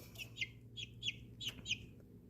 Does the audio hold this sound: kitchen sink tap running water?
no